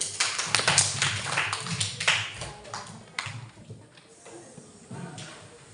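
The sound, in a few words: applause for a student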